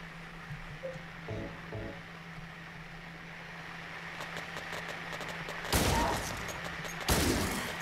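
Gunfire in the game Silent Hill 2 comes as two loud, sharp bursts near the end, after quieter ambient game sounds and faint clicks.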